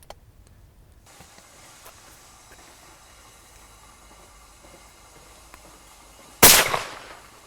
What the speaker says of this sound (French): J'effectue mes 2 tirs.